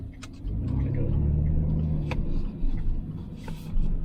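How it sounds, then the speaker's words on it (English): A car passes close by on a rural road along the Wright Brothers driving trail, its engine rumble swelling for a couple of seconds over the idling cabin drone, then fading under light road noise. "let me let this car by"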